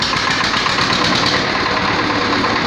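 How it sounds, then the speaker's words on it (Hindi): A 1979 Sartaj antique tractor engine runs steadily at a slow idle, a loud, close, continuous diesel chug with an even knocking rhythm and no other sounds. "क्या शानदार आवाज़ है ट्रैक्टर की।"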